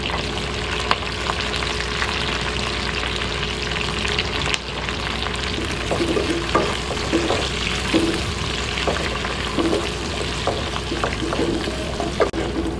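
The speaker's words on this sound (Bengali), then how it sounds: "আর এটার দিয়ে কিছু ক্যাপসিকাম ভেজে নেব, ওটা হালকা করে ভেজে নেব।" Onions and capsicum frying in a pan for chilli chicken, a steady close sizzle with repeated scraping stirs of a spatula, the stirring strokes becoming more rhythmic in the second half.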